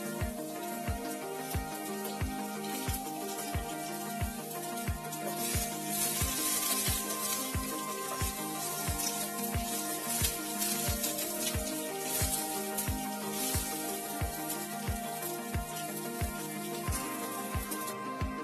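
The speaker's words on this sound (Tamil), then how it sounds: "ஸோ அது வந்து ப்ரௌன் ஆகிற வரைக்கும் நம்ம வந்து வதக்கிக்கலாம்." Sliced onion sautéing in oil in a pan while cooking a soya chunks masala side dish, giving a steady sizzle that runs throughout under a regular rhythmic ticking, with no talk.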